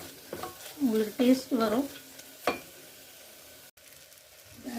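Spices and ingredients for rice-and-dal sadam sautéing in a pan make a low frying sizzle with stirring scrapes, partly under a person speaking, then continuing alone.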